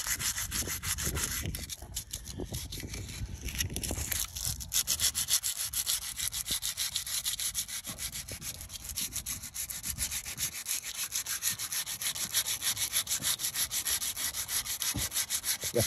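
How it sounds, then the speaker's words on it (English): Steady, continuous abrasive rubbing of sandpaper removing lacquer from a Volkswagen Transporter alloy wheel, close and fairly loud, with a rapid scrubbing rhythm throughout and no talking. "I'm sanding it"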